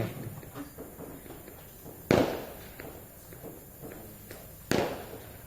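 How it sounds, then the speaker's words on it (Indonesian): Two sharp firecracker bangs go off a couple of seconds apart during an anniversary night gathering in Buol, standing out against a quiet background of faint distant noise. "sekarang sudah ada suara-suara petasan"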